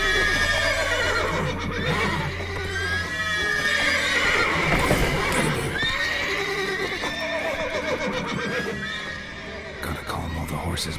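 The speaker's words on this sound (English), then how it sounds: "Gotta calm all the horses before they wake the guards." Horses neighing and whinnying in The Witcher 3 video game, several loud, close calls overlapping in succession with hoof clatter, under a game character's speech.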